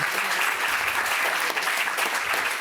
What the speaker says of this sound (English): I get applause for that.